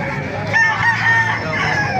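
Gilmore Hatch chickens crow and cluck together, a dense, loud flock with overlapping crowing calls and steady clucking, close by in a coop.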